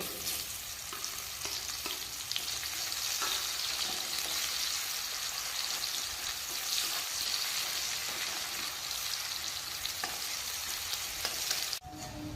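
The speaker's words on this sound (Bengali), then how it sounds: "এবার কুচানো পেঁয়াজগুলোকে দেব।" Chopped onions with whole garlic fry in oil for a duck curry, giving a continuous close sizzle with faint stirring clicks and a brief drop near the end.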